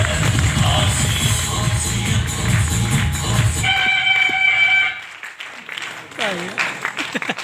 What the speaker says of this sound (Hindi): आपकी जोरदार तालियां बजेंगी।